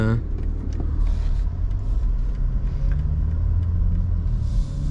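A 2023 BMW G80 M3 Competition xDrive cruising, its engine a low steady rumble under road and cabin noise, with faint clicks and creaks from inside the car.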